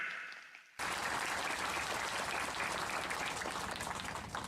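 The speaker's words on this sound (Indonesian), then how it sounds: "Tepuk tangan" Sustained applause from a crowd at an evening Islamic sermon gathering in Jember, Indonesia, breaking out suddenly after a brief quiet moment and continuing loud and steady throughout.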